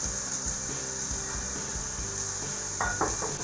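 Shredded green cabbage sizzles steadily in a hot frying pan, with scraping stirs and a few knocks of the utensil against the pan near the end.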